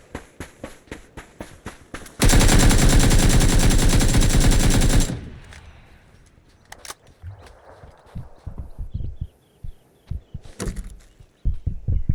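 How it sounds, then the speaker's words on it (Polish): A sustained automatic gunfire burst in the PUBG video game, fired at a wall on the Miramar map, roars loud for about three seconds amid scattered footsteps and clicks before and after. "Strzelę sobie serię w ścianę."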